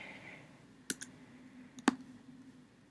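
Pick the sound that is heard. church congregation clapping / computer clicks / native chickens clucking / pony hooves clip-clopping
computer clicks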